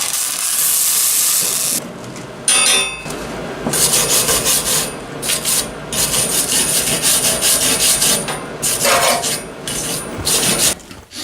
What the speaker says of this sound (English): I had to use the freaking Sawzall, and I don't know, I think I have the blades bent or something